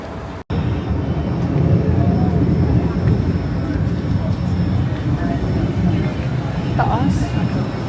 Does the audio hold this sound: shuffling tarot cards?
no